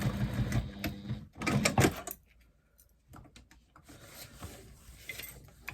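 A sewing machine stitches a seam on a bag at an eighth-inch allowance, heard as short close mechanical runs of rapid stitching broken by quiet pauses and handling noise.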